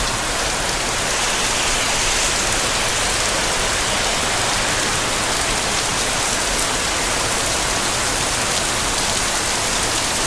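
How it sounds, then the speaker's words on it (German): Heavy rain falls in Phichit, Thailand, a dense, loud, unbroken downpour hissing evenly on surfaces throughout, with no voices. "kaum eine halbe Stunde hier und der große Regen ging los"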